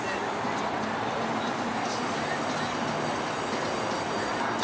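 A train runs past on rails near a river crossing, giving a steady, loud rumble and rattle of wheels throughout.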